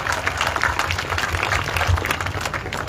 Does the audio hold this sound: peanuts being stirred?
no